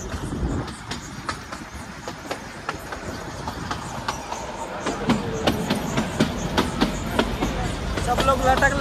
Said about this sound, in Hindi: देखो जा रही ट्रेन, देखो ट्रेन में जा रहे